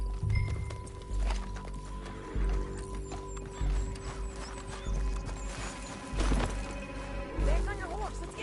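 Horse hooves galloping in Red Dead Redemption II, a steady rhythmic clip-clop running throughout under game sounds, with occasional crashes and a whinny-like cry near the end.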